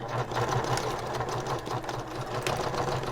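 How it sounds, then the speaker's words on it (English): Sewing machine stitching down the edges of a handbag, a steady close mechanical hum and rapid needle chatter running continuously without pause. "Now I will sew down each edge."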